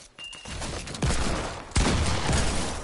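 Hand cannon gunfire in a video game, with two or three sharp, loud blasts ringing out over a rumbling battle backdrop, no talking.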